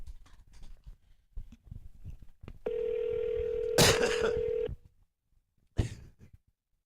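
A steady telephone ringback tone sounds while an outgoing call is placed and waits for an answer. A burst of noise cuts into it midway, and brief bits of talk and noise come before and after.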